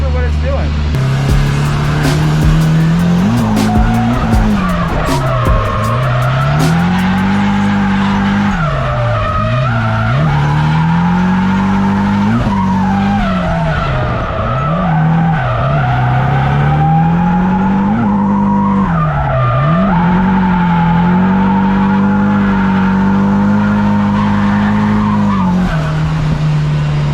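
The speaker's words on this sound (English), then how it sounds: "I'm doing some pretty fat skids right now, boy." Car drifting with long, continuous tire skids and a loud revving engine whose pitch rises and dips through each slide, up close and sustained throughout, while someone talks over it.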